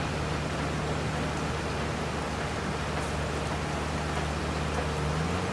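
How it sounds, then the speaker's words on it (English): Steady rain in Farming Simulator 22, a continuous even hiss over a low engine-like hum from farm machinery, unchanging and without talk. "Yep, and there came the rain"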